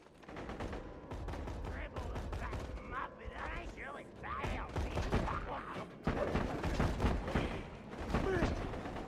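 Borderlands 2 gunfight with a powerful, slow-firing gun: repeated punchy shots and clattering effects over a dense, noisy game soundscape, with a voice talking over parts of it.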